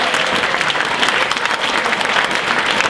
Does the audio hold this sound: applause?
yes